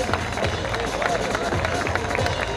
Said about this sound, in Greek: Πάμε καβάλα, ένα δυνατό χειροκρότημα!